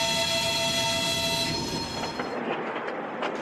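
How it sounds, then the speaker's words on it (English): A Trans-Siberian Railway train at Moscow's Yaroslavsky station late at night sounds a sustained horn that fades after about two seconds, leaving low rolling rumble and scattered clanks of the cars. "Late night at Moscow's Yaroslavsky station. Calling all passengers for the legendary Trans-Siberian Railway."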